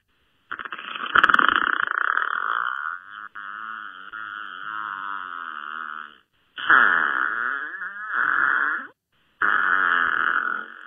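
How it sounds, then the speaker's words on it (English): A recorded fart played over a phone line on a podcast call, a long buzzing, sputtering blast followed by several shorter bursts, loud, with no talk over it. "I just wanted to play a fart for you"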